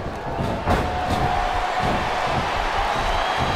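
A roaring arena crowd in the WWE SmackDown vs Raw 2007 video game, a steady dense wall of cheering and noise that holds loud and unbroken throughout, with a brief surge near the start.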